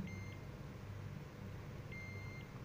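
A multimeter measuring capacitor resistance gives two faint, thin electronic beeps, one at the start and another near the end, over a low steady background hum.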